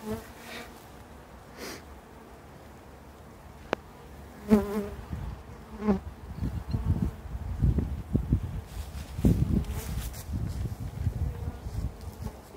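Honeybees buzz around a newly installed hive on a farm, a steady near drone with a few sharp knocks and light rustling as the hive is handled.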